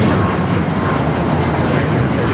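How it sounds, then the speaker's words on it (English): Loud, close roar of an Alaska Airlines jet at LAX bound for Seattle, a dense broadband engine rush holding steady throughout with no talking. "It's a Alaska flight heading to Seattle."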